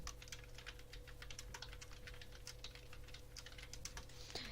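Rapid, steady clatter of keys on a computer keyboard as someone types a chat message during a Minecraft Survival Games match, with a low constant hum underneath and no talking.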